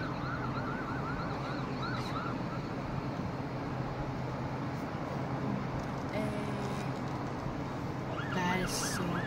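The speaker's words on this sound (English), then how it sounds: "It's a fire truck." Fire truck siren wailing at a distance at night, faint and intermittent under steady background noise, with people talking nearby.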